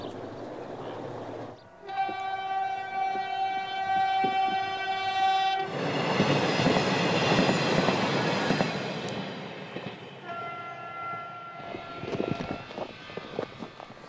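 A train horn blasts in long sustained tones in Mongolia, then the heavy rushing clatter of passing railcars follows, with another horn call near the end.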